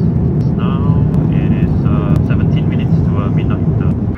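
Steady low jet engine roar and airflow inside the cabin of a Singapore Airlines Airbus A350 cruising at night, a constant loud rumble with a voice talking over it.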